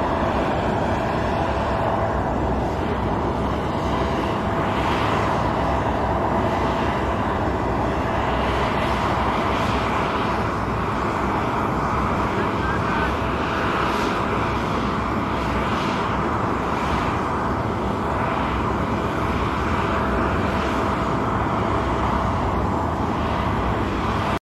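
Donald Trump's airplane landing in Washington, D.C. produces a steady, loud, unbroken engine roar throughout, with no talking over it.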